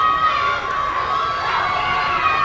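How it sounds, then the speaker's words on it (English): Crowd at a rugby league championship final in California, a steady roar of cheering and chatter that stays loud and sustained throughout, with no clear break. "this crowd is just bubbling"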